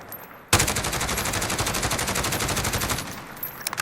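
A SIG 556 PDW fires a sustained automatic burst in Call of Duty Modern Warfare, loud rapid evenly spaced shots lasting about two and a half seconds, followed by a few faint clinks.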